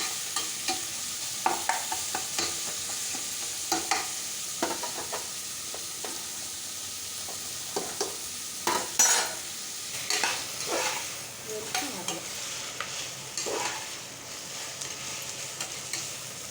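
Food fries in a pan until golden brown, a continuous loud sizzle with frequent crackles and occasional stirring scrapes throughout, with no voices over it.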